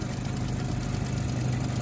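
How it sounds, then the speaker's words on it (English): A Volkswagen 2.0T Mk5 GTI engine, just after camshaft timing chain replacement, idles steadily nearby with a low, even rumble, brief and uninterrupted. "The car is running healthier, as you guys can see."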